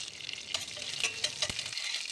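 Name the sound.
tempering spices frying in oil in a pan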